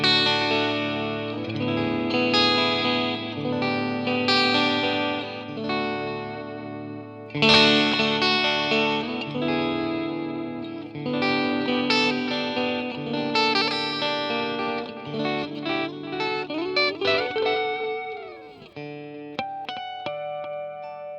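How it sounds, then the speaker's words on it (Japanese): Clean electric guitar through a Line 6 Catalyst amp with a bright, chiming tone, strummed chords and picked notes ringing out with audible delay repeats from its built-in effect trailing behind each phrase. "これ、今ちょっとお聞きになってわかるかと思うんですけど、ディレイかかってます。"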